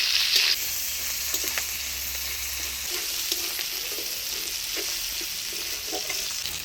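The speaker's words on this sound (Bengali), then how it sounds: "পেঁয়াজ, রসুন আর কাঁকড়া দিয়ে ভালোভাবে ভেজে নিই।" Crabs fry in hot oil with onion, garlic and green chilli, giving a loud, continuous sizzle with occasional stirring clatter throughout.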